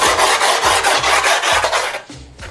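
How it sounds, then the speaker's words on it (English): Screwdriver scraping along the gritty grip tape edge of a skateboard deck, a loud rough rasping in repeated back-and-forth strokes close to the ear, with no talking. "you're gonna wanna take your scraper and scale the side of the board all the way around"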